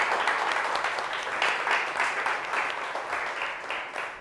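A group of special school students applauding together, a dense, moderately loud patter of many hands clapping steadily for several seconds with slight swells, without any talk over it.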